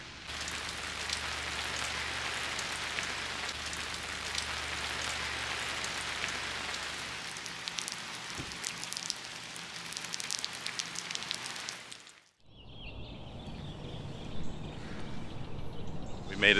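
Steady rain hisses down at an RV park in Ohio for about twelve seconds, then cuts to a quieter scene with faint drips and soft background sounds.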